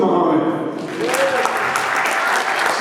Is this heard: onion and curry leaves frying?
no